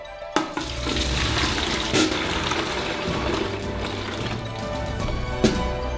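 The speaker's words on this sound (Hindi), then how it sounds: "हम बाल्टी में रस जमा करेंगे, इसलिए हम कटोरे में से डालेंगे।" Carrot juice is poured from a bowl into a bucket, a continuous close splashing pour of liquid with a few knocks at the start and end.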